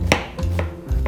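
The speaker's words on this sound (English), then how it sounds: "Chop it finely" Knife finely chopping onion on a cutting board for kimchi fried rice: four sharp, close knife strikes in an uneven rhythm, each a brief thud with a crisp edge, no voices.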